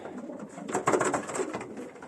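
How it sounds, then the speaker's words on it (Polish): Pigeons in a pigeon loft at night coo softly, several low, throaty calls overlapping close by in a quiet space. "i ja sobie tutaj gołąbki moje przeglądam"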